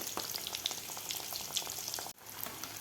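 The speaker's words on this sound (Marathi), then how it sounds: "अशा प्रकारे व्यवस्थित आपल्याला हे ब्राऊन कलर होईपर्यंत व्यवस्थित तळून घ्यायचे आहेत." Mini cauliflower samosas deep-fry in oil with a dense, continuous crackling bubble that cuts out briefly near the end and then resumes; no voices.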